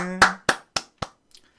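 Broadcast hosts on a stock market program clap four times in a slow, even rhythm, close and crisp, after a brief spoken word, with a faint trailing tap.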